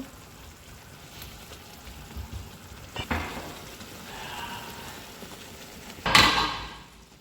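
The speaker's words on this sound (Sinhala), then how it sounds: "හොඳට තෙම්පරා දෙන්න අරින්න." Spices tempering in hot oil for a beef meatball curry, a steady low crackle and fizz with a few louder clattering bursts of stirring around the middle and near the end, no voices.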